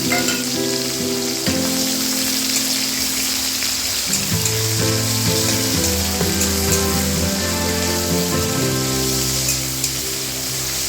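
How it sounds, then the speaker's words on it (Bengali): Onions frying in hot oil seasoned with five-spice and bay leaf, a steady close sizzle and crackle running throughout, with no one speaking. Tonal background music plays over the frying. "ওই তেলের মধ্যে দিয়ে দিচ্ছি 5 ফোড়ন, আর দিয়ে দিচ্ছি তেজপাতা। এবার দিয়ে দিচ্ছি পেঁয়াজ।"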